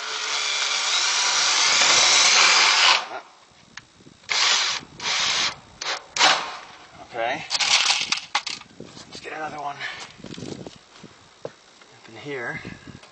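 A power drill drives the last few screws into a Brandguard fire-safe gable vent during a retrofit, with a long loud whir followed by short stop-start bursts and quiet gaps between them.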